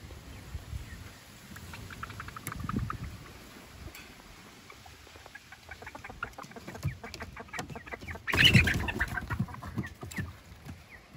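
Frizzle chickens and a rooster cluck and patter close by in a farmyard, with soft scattered clucks throughout and a sharper louder squawk burst near the end, and no talking.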